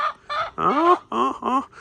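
Chickens cluck in a short run of five or six loud, close calls in an outdoor yard, with brief gaps between the bursts and no other sounds.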